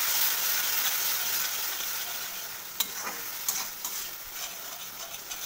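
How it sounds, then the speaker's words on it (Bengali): A ground coconut and poppy seed spice paste fries in oil with pointed gourd and prawns, making a soft, steady sizzle broken by a few sharp spoon clicks against the pan. "আবারও খুব ভালো করে নাড়াচাড়া করে নেব"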